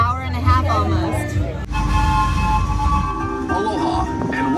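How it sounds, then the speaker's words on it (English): Pineapple Express tour train rolling through the Dole Plantation in Hawaii, a steady loud mechanical rumble with a continuous hum, while people chatter nearby and a brief announcement-like voice comes through. "Aloha and welcome aboard the Pineapple Express train tour."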